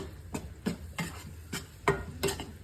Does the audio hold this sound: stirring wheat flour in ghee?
yes